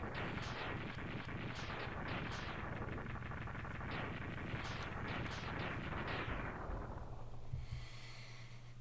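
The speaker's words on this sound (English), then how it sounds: "Wish there was a way to speed up those explosions a little bit." A dense, continuous barrage of retro video game explosion effects from Mega Man X3, loud and rapid-fire with repeated bursts, trailing off near the end.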